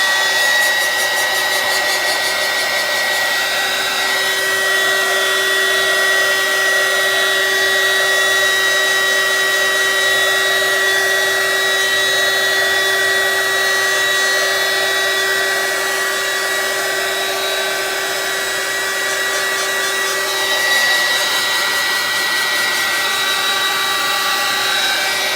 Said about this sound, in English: I would like to take the heat gun to this now, just to pop any bubbles